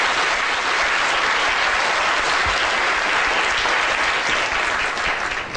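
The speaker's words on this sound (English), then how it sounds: "round of applause for fear" Loud, sustained applause fills a lecture hall during a talk on the brain, many hands clapping in a thick, even roar that carries on without pause and no speech over it.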